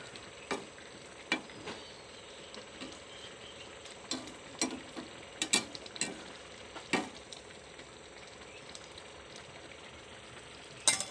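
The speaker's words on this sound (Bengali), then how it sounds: "তরকারিটা ফুট চলে এসছে কত সুন্দর" Curry simmering in a pan for a potol dim recipe, a quiet steady bubbling with scattered pops and ticks spaced irregularly throughout, close and faint.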